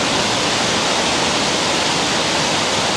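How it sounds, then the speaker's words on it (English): A river runs right beside the listener, a dense, steady rushing of water that stays loud and even throughout, with no voices. "All they can hear is the river sound. That sweet music of the river running down, you know."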